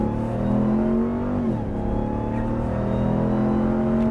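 A RAM TRX pickup engine roars at close range, holding a steady high rev, then dipping briefly as it shifts before pulling strongly again. The loud, continuous note carries no talk over it.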